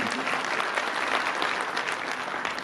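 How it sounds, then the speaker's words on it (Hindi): Loud, dense applause from an audience at an International Women's Day program, a steady wash of many hands clapping throughout with no talk over it. "एक बार पुनः जोरदार तालियां बजाकर उनका स्वागत और अभिनंदन।"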